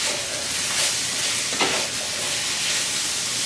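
Shrimp go into a pot of sausage jambalaya, set off by a soft steady sizzle and hiss that briefly flares near the middle. No voices.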